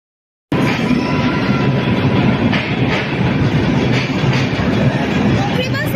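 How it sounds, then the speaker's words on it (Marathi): The Janshatabdi Express rolling in at close range, with a loud, steady rumble and rhythmic clatter of wheels on rails after a sudden start, sustained throughout. "ट्रेन आलेली आहे आणि फायनली आम्ही निघालो जनशताब्दी एक्सप्रेस मधून"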